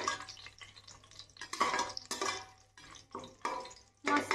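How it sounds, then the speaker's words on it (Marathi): Bay leaves and a few black peppercorns being sautéed in a pan over a medium flame, with soft stirring scrapes and a gentle sizzle in bursts, close and fairly quiet. "याला आपण आता छान असा वास येईपर्यंत परतून घेणार आहोत."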